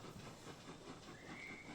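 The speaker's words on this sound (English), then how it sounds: "as the train keeps rolling around, we see Austin's character" A train rolls along with a steady low rumble and faint rhythmic clatter, as background ambience for a tabletop role-playing session, with a thin hiss rising near the end and no voices.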